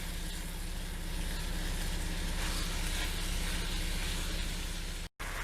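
Meat fries in a pan with a steady, even sizzle throughout, close and moderately quiet, no voices.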